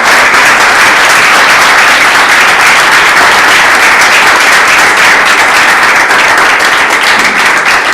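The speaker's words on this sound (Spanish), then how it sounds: "le damos un aplauso a Nacho" An audience at a political training gathering applauds a speaker named Nacho, a dense, loud, sustained wash of clapping that holds steady throughout with no one speaking over it.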